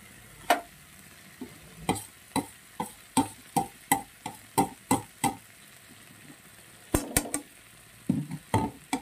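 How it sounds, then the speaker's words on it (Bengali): A spatula scrapes and clacks against a pan while fried eggplant is mixed with crushed, fried neem leaves: about a dozen sharp, regular strokes, a short pause, then a few more, over faint background hiss. "এবার নিম পাতাটা দিয়ে এবার আমি মিলিয়ে দেব, পুরো বেগুনটার সঙ্গে মিশিয়ে দেব"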